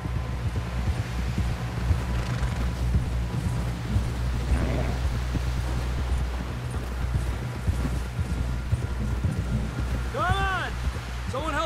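Horse hooves clip-clop at a steady, rhythmic pace in the video game Red Dead Redemption 2, mixed into a constant low rumble and wind-like noise, with a brief voice sounding near the end.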